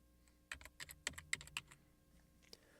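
A password is typed on a computer keyboard during a Joomla install, a quick burst of about a dozen light key clicks in irregular rhythm, close and quiet, then a final tap after a pause.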